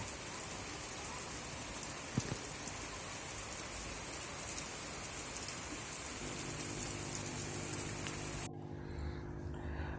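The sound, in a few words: rain falling on newly planted yucca cuttings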